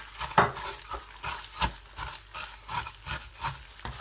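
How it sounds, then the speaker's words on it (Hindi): Vermicelli being stirred in melted butter in a pan: a steady run of rhythmic scraping and rubbing strokes about every half second, close and moderately loud, with no talking. "सवैयों को खूब अच्छी तरह से इस तरह मिक्स करना है"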